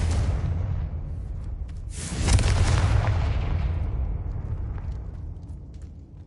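A Confringo blasting spell in Hogwarts Legacy lands as one heavy explosion about two seconds in, after a rushing lead-up, then a long rumbling tail that slowly dies down.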